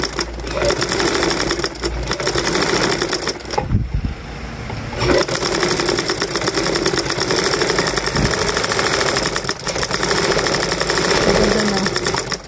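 Sewing machine running steadily in a home setting, a loud continuous mechanical whir with rapid needle clatter, briefly pausing midway before resuming at full speed.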